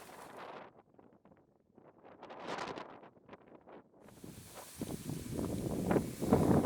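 Gusty wind, around 30 mph, across open South Dakota fields buffets the microphone, rising to a loud, rough roar in the second half with rustling underneath.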